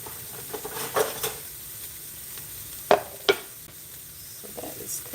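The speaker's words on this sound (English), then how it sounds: "So I'm gonna let that stir fry. I'm gonna let that brown just a little bit more" Egg roll in a bowl stir fry sizzles steadily in a pan, a continuous frying hiss broken by a few sharp clacks and scrapes of stirring.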